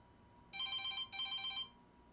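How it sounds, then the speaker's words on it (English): A telephone rings twice in quick succession, each ring a bright, buzzy electronic trill lasting about half a second, clear and close over a quiet background with no talk. "I'm getting a call from Santa Claus."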